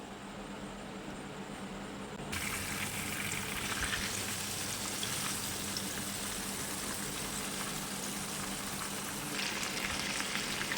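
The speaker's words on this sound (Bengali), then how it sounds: "এখন আমি কোটিং করে রাখা চিকেনটা তেলের মধ্যে দিয়ে দেবো" Flour-coated chicken chaap drops into hot oil and breaks into a loud, steady frying sizzle that holds close and continuous, with a quieter stretch before the pieces go in.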